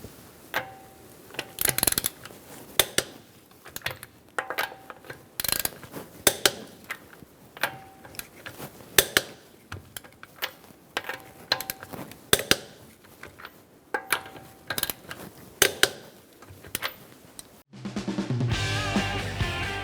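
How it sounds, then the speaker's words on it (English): A torque wrench with a 19mm socket tightens wheel lug nuts on a 2013-2022 Buick Encore, giving close, sharp metallic clicks and ratcheting taps in irregular bursts, then a different, denser sound at the very end. "We're going to torque our wheels to 100 foot-pounds using a 19mm socket."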